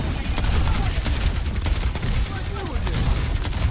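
Sustained rapid gunfire from the hero Baptiste in the video game Overwatch, a dense, continuous barrage of shots and game effects throughout, with a voice speaking over part of it.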